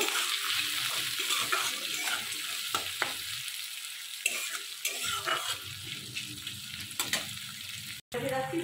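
Salted onions frying in a pan hiss steadily while being stirred, with repeated scraping and clinks of a utensil against the pan and a brief gap near the end, close up and without talk.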